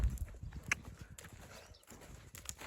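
A horse cantering over ground poles gives quick, soft hoof thuds in an uneven rhythm, fairly quiet and slightly distant, with faint background noise and no talk.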